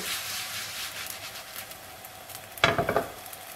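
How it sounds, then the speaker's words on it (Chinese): Rolled flatbread dough sizzles in a preheated flat pan brushed with a little oil: a steady hiss, then a sudden louder burst of crackling sizzle near the end as the pan is turned. "油热以后，放入饼皮"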